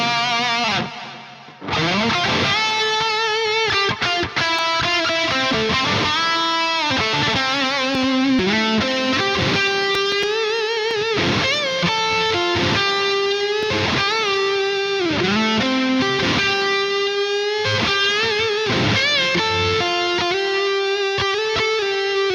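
Electric guitar run through a stereo march delay plugin preset plays a melodic line, each note followed by rhythmic repeating echoes spread wide, with a steady, effects-heavy tone throughout.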